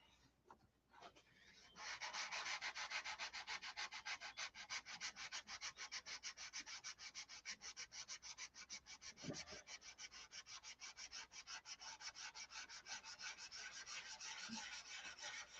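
A DeWalt palm sander works across the bottom of a wooden model airplane, a fast steady buzzing rasp that starts after a couple of faint knocks and runs continuously, close and uninterrupted, with no talking.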